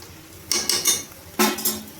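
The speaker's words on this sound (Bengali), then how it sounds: "আর 5 মিনিট আমি কড়াইতে নাড়াচাড়া করে নেব" Cabbage being stirred in a kadai with a metal spoon while cooking a shrimp and cabbage ghonto: a few short scraping, clinking strokes against the pan in two bursts, close up, with quiet gaps between and no talk.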